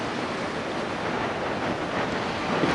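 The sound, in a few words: wind on golf course by cliffs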